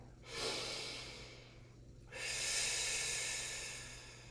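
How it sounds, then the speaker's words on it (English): Slow, deep breaths taken during a gait and balance movement exercise class: a long airy inhale, a short pause, then a longer drawn-out exhale, close and fairly quiet with no talking. "And I'm breathing."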